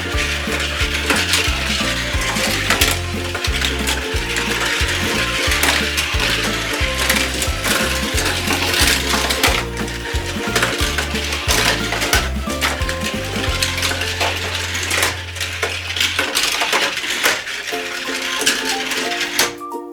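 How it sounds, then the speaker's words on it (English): Toy cars roll and clatter down a plastic Tomica playset track, a busy continuous stream of rattling, clicking and tapping with rhythmic mechanical ratcheting, close and fairly loud. "All right, let's start sending our cars down the track."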